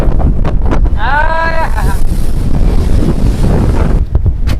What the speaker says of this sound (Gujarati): અહીંયા તો પવન નો કઈ માર નંબર